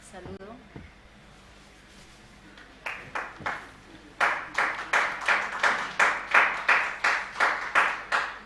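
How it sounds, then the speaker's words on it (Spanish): Church congregation applauding a choir at a Quechua prayer service, faint scattered claps building into steady rhythmic clapping in unison, fairly loud and close. "Por favor, vamos a recibirlos con fuertes aplausos."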